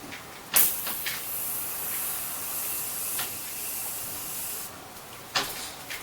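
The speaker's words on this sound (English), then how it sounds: "it's a very light mist" A facial mist spray bottle gives a few short, bright hissing bursts, near and distinct, separated by a quieter stretch of steady background hiss.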